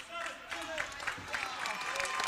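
Applause for the seniors at a high school basketball game, scattered gym crowd clapping in quick irregular claps, moderately distant, with voices talking over it.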